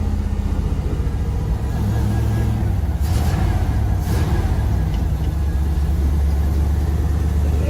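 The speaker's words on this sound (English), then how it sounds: "Misfire. It's misfiring a little bit." A 5-speed IROC Camaro engine running with a slight misfire, a loud, continuous low rumble with an uneven, stuttering pulse throughout, close and steady with a brief hiss partway through.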